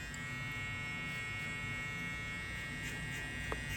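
Electric hair clippers run with a steady, close, constant buzz while cutting a mid fade at a barbershop, the motor drone continuing without pause and no one talking.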